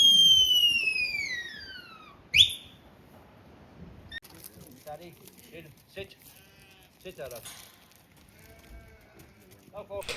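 A sheep bleats in a few wavering cries at the start on a farm in Ireland, followed by a sharp pop and then a shepherd talking at length.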